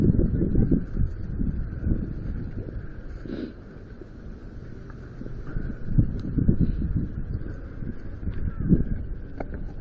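Gusty outdoor wind buffets the microphone in steady rumbling waves over about ten seconds, with faint rustling in the background.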